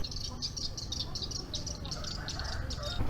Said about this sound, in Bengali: আর হয়তো আপনারা এখানে শব্দ শুনতে পাচ্ছেন যে পাখির কিচির মিচির এই পাখিগুলোই সেই বাসাগুলো তৈরি করে থাকে